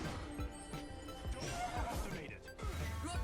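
A horse whinnies amid busy in-game action in the mobile MOBA ROV (Arena of Valor), where the hero Volkath fights on horseback, with clip-clop hoofbeats and battle effects layered throughout at a steady, close level.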